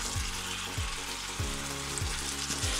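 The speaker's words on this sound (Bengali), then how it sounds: "মশলাটা ভালো করে কষানো হয়ে গেলে কেটে রাখা আলু আর ফুলকপিগুলো দিয়ে দিচ্ছি" Cut potatoes and cauliflower fry in a cooked-down spice paste for a rohu fish curry, a constant close sizzle with repeated low knocks of a spatula stirring the pan.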